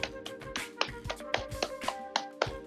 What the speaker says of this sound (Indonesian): Lalu gerakan yang terakhir adalah tepukan